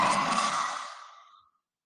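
A single forceful breath pushed out with a "ha" sound during a yoga breathing exercise, a close breathy rush that fades away into silence within about a second and a half.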